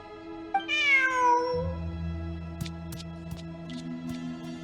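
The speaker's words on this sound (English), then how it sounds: "Who's a good kitty?" A cat meows in the video game Genshin Impact, one clear rising-then-falling meow with a few short chirpy sounds after it, heard over soft game music.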